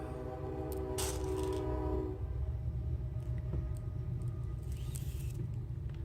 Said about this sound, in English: Gotta love that train.